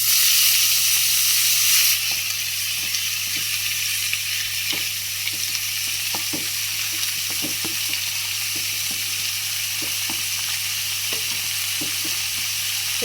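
Ridge gourd and onion mixed with salt and turmeric sizzles in a hot tempering, a loud initial hiss settling into steady frying with intermittent scraping and stirring knocks, close up and without talk.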